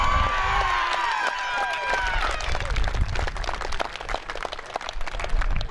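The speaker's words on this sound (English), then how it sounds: "A round of applause for the boys." Crowd applause and cheering at an under-18 Australian rules football grand final between East Loddon and Marong, a steady outdoor roar of clapping that carries on for several seconds, with some shouting mixed in.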